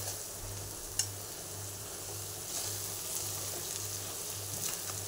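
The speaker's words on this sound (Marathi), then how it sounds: "अशा प्रकारे सगळा मसाला परतून घ्यायचा, चांगलं तेल बिल सुटस्तोवर चांगलं परतायचं त्याला" Spice masala for shipi amti sizzles steadily in hot oil, a continuous bright frying hiss with a few sharp scrape-and-stir clicks from the pan, close and alone with no talking.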